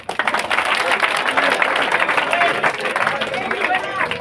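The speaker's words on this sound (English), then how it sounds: "Please clap for this student." Audience applause for a student at a scholarship test event, a dense, steady wash of many hands clapping together with crowd babble mixed in, loud and sustained throughout.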